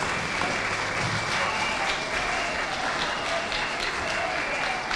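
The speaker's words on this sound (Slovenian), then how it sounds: "Dajmo še en aplavz, prosim." An audience at a march for life event in Koper gives a round of applause, a dense, even roar of many hands clapping that holds at constant loudness for the whole stretch, with no talk over it.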